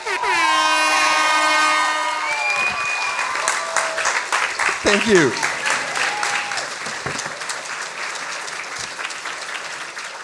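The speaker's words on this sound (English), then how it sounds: "Big applause for June" An audience at a Berlin science slam bursts into loud, sustained applause and cheering, with a horn-like blaring tone at the start and a voice speaking briefly over the clapping.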